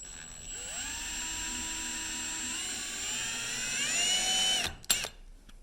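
A cheap spotting drill cutting into metal by hand, its motor whining at a steady high pitch that slowly rises and shifts, then winding down with a few sharp clanks at the end.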